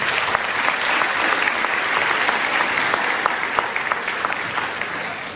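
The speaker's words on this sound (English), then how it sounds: "let's get one more round of applause for Courtney" A dense, steady wash of audience applause for a guest at a university keynote talk, loud and continuous with no voices over it.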